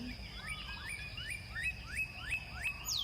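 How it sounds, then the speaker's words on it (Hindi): Small birds sing in a dense forest, a run of quick rising chirps repeating about every third of a second over a soft, steady background hiss. "पक्षियों की आवाज़ें"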